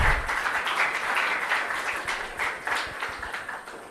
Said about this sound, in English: So first of all, the big applause for both of them.